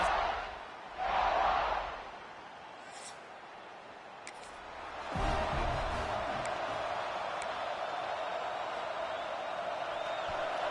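Stadium crowd at Reynolds Razorback Stadium in the NCAA 26 football video game swells in a burst of cheering, falls back to a steady murmur, then surges into a sustained roar for the rest of the stretch.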